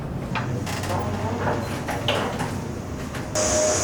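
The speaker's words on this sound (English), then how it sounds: "You can see some metallic door, and we have another layer again." A heavy metallic door slides open at an ePassport system facility, a continuous scraping, rumbling slide lasting several seconds with a brighter mechanical whir near the end, close and steady, with no talk.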